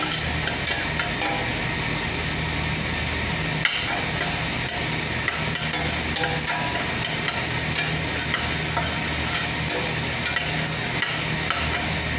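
Garlic and bay leaves fry steadily in a pan for adobo, a loud continuous sizzle with occasional utensil taps and stirring, close and unbroken throughout.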